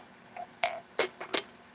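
Clear glass herb storage jar clinking: three bright, ringing glass chinks close by, spaced about a third of a second apart, with a faint softer tap just before them and no talk.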